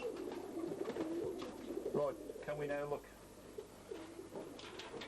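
Pigeons coo softly in a loft, a few low throaty calls in bursts, while someone talks over them.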